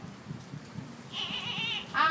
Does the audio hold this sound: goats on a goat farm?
yes